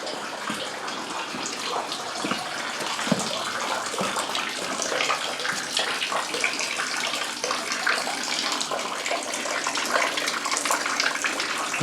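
Heavy water gushes and pours into a river house, a steady dense rushing like a swimming pool being filled, loud and continuous throughout with no talk.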